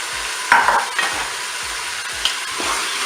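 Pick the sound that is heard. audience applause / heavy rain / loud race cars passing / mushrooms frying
mushrooms frying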